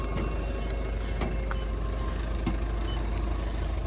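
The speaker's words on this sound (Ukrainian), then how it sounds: "Двигун працює зараз заведений, працює рівно, гарно." A 2015 Ford Tourneo Connect passenger van with 167,000 km sits idling, its engine running in a steady, even low hum with a few faint clicks and knocks on top.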